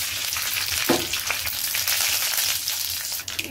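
Curry leaves and mustard seeds drop into hot oil for a Chhattisgarhi saag dish, giving a loud, steady sizzle with crackling spatters and a brief stirring scrape, close up.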